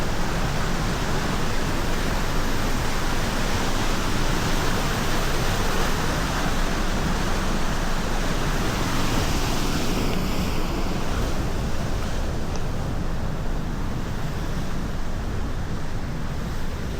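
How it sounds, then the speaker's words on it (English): Loud, steady roar of rushing water beside the Icefields Parkway, a dense unbroken wash of noise with a little wind buffeting the microphone throughout. "my buddy heard the water roaring."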